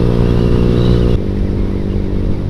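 A motorcycle fitted with an aftermarket 3tech Ronin Hanzo exhaust rumbles loudly and steadily at close range, its deep idle continuing without a break.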